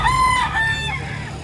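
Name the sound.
rooster crowing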